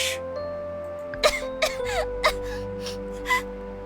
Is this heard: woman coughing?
yes